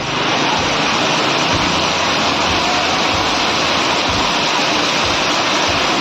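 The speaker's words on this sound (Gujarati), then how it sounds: "વરસાદ જોવો તમે હુક્કા કાઢીને કેવો વરસાદ આવી રહ્યો છે" Torrential rain pours down in Gariyadhar, a constant, loud, dense roar of water with no pauses and no voices.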